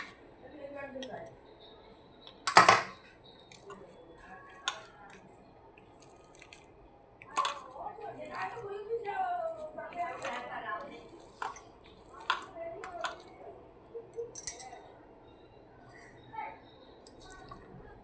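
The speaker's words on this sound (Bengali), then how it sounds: "এবার ডিমগুলো এরকম করে ছোট ছোট করে টুকরো করে নিতে হবে" Boiled eggs being cut into small pieces in a home kitchen, with soft squishy, wet cuts and one sharp knock, scattered across the stretch while a person talks throughout.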